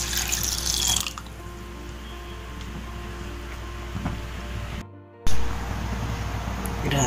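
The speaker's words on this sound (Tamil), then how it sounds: "நம்ம வெள்ளம் எவ்வளோ எடுத்துருக்கோமோ அதே அளவு தண்ணி ஊற்றி அந்த வெள்ளத்தை நல்லா கரைச்சிக்கலாம்" Water is poured into a pan of jaggery to dissolve it while making wheat-flour kozhukattai in a home kitchen, a steady splashing pour that starts loud and then settles into a softer trickle and bubbling.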